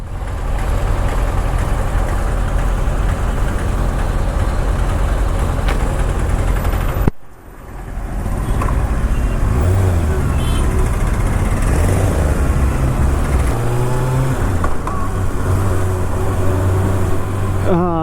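A Kawasaki ZX6R motorcycle idles close by with a steady, throaty drone that drops out briefly partway through before settling back into an even idle.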